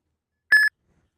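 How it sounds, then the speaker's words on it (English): A phone running the Uber driver app gives a single short, clear electronic beep for an incoming trip request, with silence before and after. "Your phone will start beeping, and the screen will flash."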